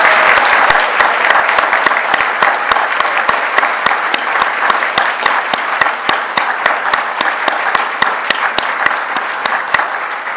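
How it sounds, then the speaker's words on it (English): A large audience at a school-division service pin and retirement ceremony gives sustained, loud applause, with a thick wash of many hands and sharper individual claps standing out throughout, lasting about ten seconds. "Ladies and gentlemen, please, a round of applause for all of our retirees."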